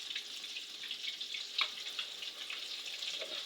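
Loaded latkes fry in hot oil with a faint, steady sizzle and a few soft pops, quiet and alone.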